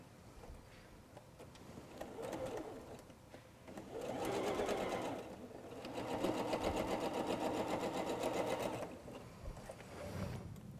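A sewing machine runs in several stretches of varying speed while joining curved quilt pieces for a wall hanging, with faint talk in the room between and under the stitching.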